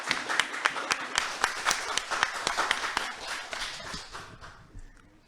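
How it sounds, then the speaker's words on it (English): An audience at a Ramadan quiz award ceremony in Toronto greets a winner with lively applause, individual sharp claps standing out from the group before the clapping tapers off and dies away. "please give a big applause to him"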